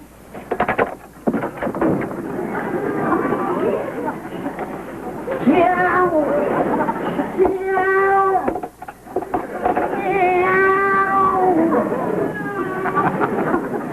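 A voice imitates a cat's meow in a few drawn-out, wavering calls, loud and close, set among muffled indoor talk and room noise in an old radio-style comedy scene.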